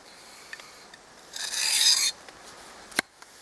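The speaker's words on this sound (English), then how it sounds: "The diamond sharpener does work well." A knife blade is drawn once across a diamond sharpener, a single short gritty rasp lasting under a second amid quiet, with a few light clicks before and after.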